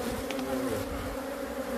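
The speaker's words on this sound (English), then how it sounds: "we're going to get a shitload of bees now" Dense, steady buzzing of many bees swarming from an opened hive during a bee removal on a killer bee film shoot, close and continuous with no talking.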